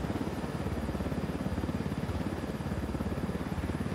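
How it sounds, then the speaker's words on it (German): Helicopter in Ghost Recon Wildlands, a steady rapid rotor thump over a broad engine whine, continuous and fairly close, with no talk. "Sie haben einen Helikopter, ja wunderbar."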